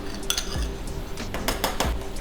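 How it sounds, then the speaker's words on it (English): Miso glaze with hot sauce being whisked in a pan, giving a steady clatter of whisk on metal with light clinks and scraping strokes, close and moderately loud with no talking. "And whisk that all in."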